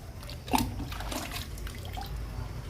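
Liquid fertilizer is poured onto indoor plants such as lavender and philodendron: a brief splash near the start, then a soft, steady wet trickle.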